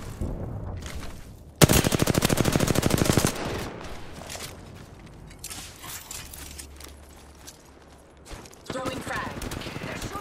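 Gunfire in the shooter game Apex Legends: a loud, rapid automatic burst of about a second and a half, then scattered quieter shots and clatter beneath game voice lines.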